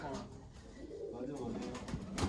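Soft cooing of kept pigeons repeats in the background as people talk nearby, the calls low and muffled.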